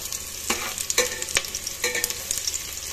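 Rice and lentils tip into spices frying in a pan for khichuri with potato, sizzling loudly while a spoon scrapes and stirs in several quick, uneven strokes.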